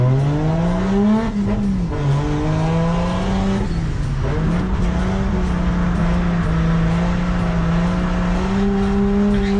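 Rear-wheel drift car held in a sustained drift, engine revving loud and steady with pitch dipping and rising, tires squealing continuously underneath, close and alone without talk.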